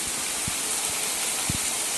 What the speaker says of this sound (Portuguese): A chuva já engrossou aqui